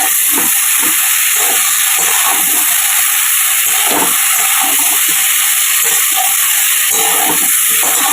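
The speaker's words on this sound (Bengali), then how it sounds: "এবার এটা একটু কষিয়ে নিয়ে একটু জল দিয়ে চাপা দিয়ে দেবো" Curry sautés in a pan with a steady, loud, hissing sizzle that runs unbroken throughout, and no voices are heard.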